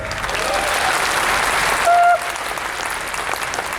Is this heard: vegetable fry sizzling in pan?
no